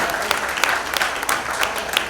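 Applause from the seated audience at an annual general meeting in a hall, steady moderately loud clapping with scattered sharper claps throughout.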